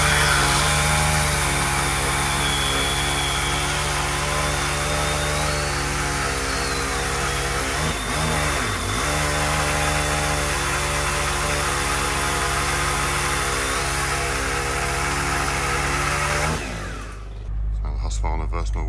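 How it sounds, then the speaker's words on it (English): A Stihl petrol telescopic pole saw runs loud and steady at high revs, its engine note dipping briefly midway, then cutting off near the end. "I'm just going to see the difference between the still petrol, Husqvarna petrol, and the Milwaukee battery powered brand new telescopic pole saw."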